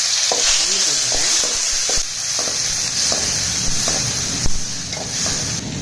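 Onion and tomato frying in a pan for mushroom kurma, a loud continuous sizzle with intermittent scraping stirs, close and without talk.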